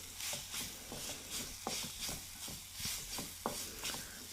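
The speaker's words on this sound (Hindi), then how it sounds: "चारों आलू को ग्रेट करने के बाद अब हम इसको मसाले के साथ बिल्कुल अच्छे से मिक्स करके पकाएंगे" Grated potato mixed with spices cooks in a pan, a soft sizzle broken by repeated scraping strokes of a spoon stirring every second or so, close and fairly quiet.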